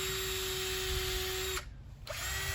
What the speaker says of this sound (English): It's time to drill some holes in the Mentos